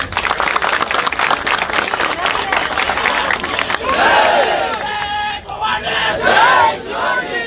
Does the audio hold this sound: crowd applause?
yes